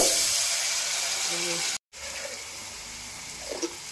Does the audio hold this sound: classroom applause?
no